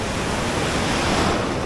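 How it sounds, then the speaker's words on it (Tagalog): Strong surf on the beach at Baler, with heavy waves roaring in a steady, loud, unbroken wash close by and no voices. "Pero lumalakas yung alon, grabe."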